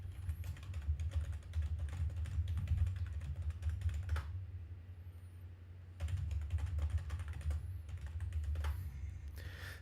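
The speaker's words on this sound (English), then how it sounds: "Sorry if you hear typing on my keyboard" Steady typing on a computer keyboard, fast clustered keystrokes with a brief pause midway, close and fairly quiet over a low background hum.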